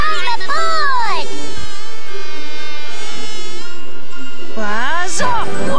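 Giant cartoon bees buzz in a whimsical animated fantasy, a loud, close, warbling drone that swoops up and down in pitch, with two bursts of bending buzz separated by a steadier hum.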